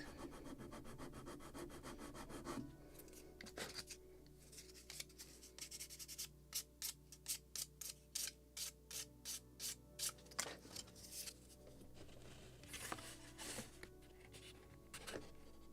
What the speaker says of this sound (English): Maybe slight sanding in the very end